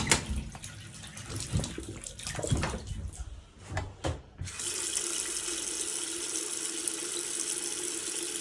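Water gushes from a tap while an unvented Megaflow cylinder is being filled. A strong, steady hiss of running water follows some handling noises, close and continuous, with no speech.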